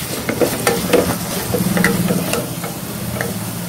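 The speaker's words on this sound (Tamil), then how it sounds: "இப்போ வெங்காயம் தக்காளி இஞ்சி பூண்டுலாம் நல்லா வதங்கிடுச்சு" Onion, tomato, ginger and garlic sizzle and fry in a pan for goat spleen gravy, with a steady close crackle and occasional stirring scrapes throughout.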